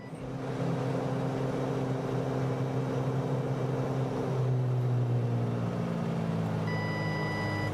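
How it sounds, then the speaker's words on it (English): Steady, loud drone of a Ryan Navion B Super's piston engine pushed hard in Microsoft Flight Simulator 2024, holding near-constant with a slight pitch shift midway and a high tone appearing near the end. "I push the engine hard here."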